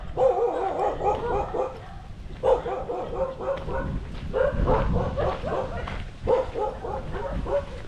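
A dog named Blackie barks repeatedly on a neighborhood walk, with sharp, loud barks arriving in bursts of several close together and short pauses between them.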